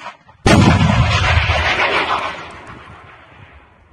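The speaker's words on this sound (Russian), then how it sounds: "Выстрел!" A single booming launch from a weapon in the Ukraine war erupts abruptly after a brief quiet, loud and close, then rolls away into a long, fading rumble and echo over several seconds.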